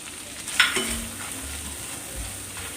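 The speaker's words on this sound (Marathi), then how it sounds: "आपण जे काजू आणि खोबऱ्याची पेस्ट करून घेतलेली होती ती व्यवस्थित फ्राय झालेली आहे" A cashew and coconut paste frying in a pan for a fasting-day vegetable dish, with close sizzling and a spoon scraping and stirring, including a sharp clink near the start.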